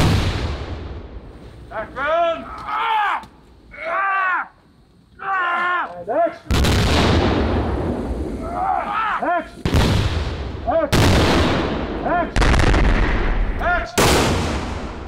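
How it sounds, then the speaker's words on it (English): Several loud, booming special-effect explosions on a film set burst out one after another in daylight, each a sudden broadband blast, with people talking and shouting in between. "in this particular take, we're going to introduce an explosion."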